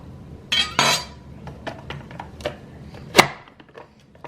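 A handheld vegetable chopper snaps down through onions, dicing them: a few sharp plastic clacks and chopping knocks close up, the loudest near the start and a sharp snap later, with lighter clicks between.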